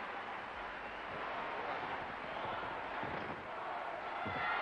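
Arena crowd cheering and applauding at a 1983 world gymnastics championships, a steady broad roar of distant voices and clapping that holds level throughout with no break.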